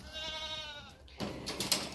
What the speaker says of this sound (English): Oh, the goats are yelling at me.